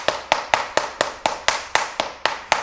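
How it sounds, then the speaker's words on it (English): A pointe shoe knocked against a hard floor to soften it gives about ten sharp, evenly spaced knocks, close and crisp, with no talking. "bit of a knock on the floor"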